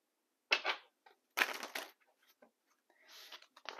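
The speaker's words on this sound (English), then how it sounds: "Let's do some shuffling." A deck of oracle cards being shuffled in short riffling bursts, close and crisp, separated by quiet pauses, ending with a softer sliding rustle.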